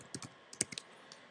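A short burst of soft keystrokes on a computer keyboard while a message is typed, about eight scattered taps in uneven rhythm, faint and close against a quiet background.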